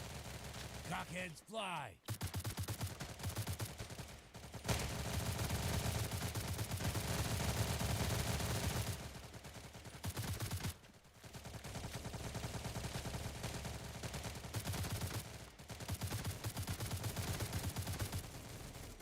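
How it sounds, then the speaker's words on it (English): Sustained bursts of rapid video-game gunfire rattle almost continuously with brief gaps, while a voice speaks briefly over the shooting. "What are y'all shooting at?"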